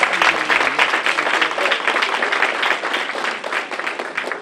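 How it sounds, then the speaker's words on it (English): An audience claps for the master of ceremonies at a State of Ward 7 community event, giving dense, steady applause that continues throughout. "Give a round of applause for our MC, Mr. Anthony Williams."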